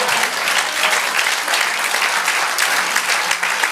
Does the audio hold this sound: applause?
yes